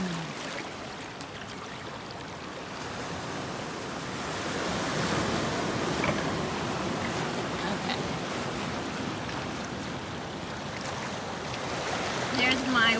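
Ocean waves wash and break steadily along Stone Beach, a continuous rushing surf with a swell in the middle, with some wind buffeting the microphone.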